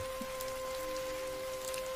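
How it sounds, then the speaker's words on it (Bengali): Heavy rain pours down outside as a cartoon sound effect: a faint, even wash of hiss that stays constant throughout, over a low steady hum. "বাইরে মুষলধারে বৃষ্টি পড়ছে।"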